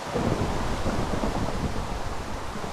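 A rainstorm with thunder in the video game Minecraft with the Forestry mod: a dense, steady roar of rain mixed with low rumbling thunder, continuous and fairly loud, with no voices.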